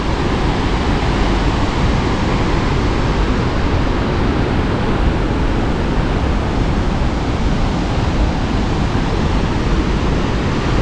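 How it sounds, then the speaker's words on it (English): Shell Falls on Shell Creek in Wyoming's Shell Canyon roars in a gorge, a loud, continuous broadband rush of falling water with no pauses. "The main waterfall is just to our left here."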